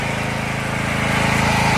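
A Tekster TK8500E 7.5 kW gasoline generator runs at a garden house, its small engine chugging in a loud, steady, fast-pulsing drone up close.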